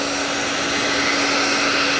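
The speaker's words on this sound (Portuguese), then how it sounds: "Vamos passar o secador na gacheta." A hair dryer blows steadily on the rubber door gasket of a refrigerator, producing a loud, even whooshing roar with a constant motor hum throughout and no talking.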